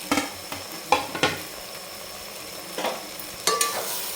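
Green chillies, coriander and plenty of mint being stirred into an egg biryani base in a pan, with a few scraping stirs and a soft sizzle in between, close and fairly quiet.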